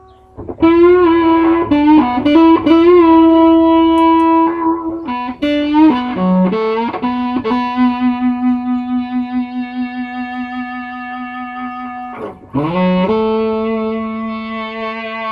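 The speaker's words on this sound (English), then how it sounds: "You get this kind of cool effect where it's like you hear the amp first and then you hear the fuzz swell in." Guitar amp with a fuzz effect swelling in, sustained distorted notes that bloom and hold, loud and close, with a short break before a final ringing chord.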